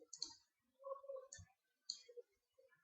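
A computer mouse clicks three times at spaced intervals, each a short, sharp, quiet tick in an otherwise hushed room.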